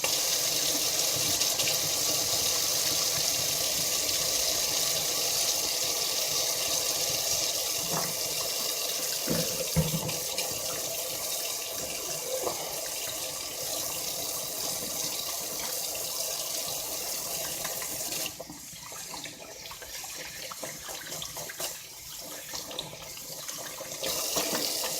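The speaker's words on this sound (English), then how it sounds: "I'll wash my hands too." Water runs steadily from a tap into a sink for hand washing in a home kitchen, a constant hiss and splash with brief shifts as hands move through the stream.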